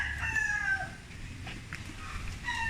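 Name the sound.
chick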